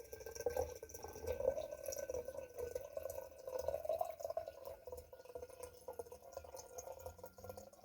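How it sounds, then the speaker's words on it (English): La Vieille Ferme Côtes du Ventoux red wine trickles slowly from a bottle held at a slight angle, giving a faint, close, continuous gurgling pour with soft dripping that lasts nearly eight seconds. "I'm holding the bottle at a slight angle to try and minimise the sediment."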